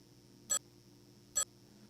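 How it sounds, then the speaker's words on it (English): A phone gives two faint, short clinks about a second apart, with no talk and a quiet background. "you hear just a little clink of the phone"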